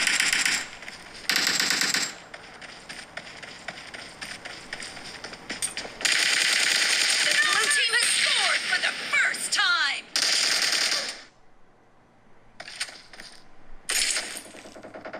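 PUBG Mobile played on an iPhone gives off loud, sharp bursts of rapid automatic gunfire from the game, in repeated volleys broken by brief pauses, with metallic clinks and rattling among them.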